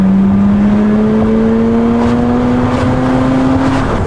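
A 2007 Mazda RX-8 rotary engine pulls up through the revs, giving a smooth, loud tone that climbs steadily in pitch over a few seconds, heard from inside the car.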